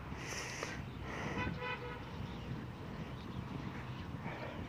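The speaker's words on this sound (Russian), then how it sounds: "Много-много машин сигналит." Car horns toot repeatedly at a distance along a city street in Bendery during Victory Day celebrations, short honks overlapping amid general outdoor traffic noise.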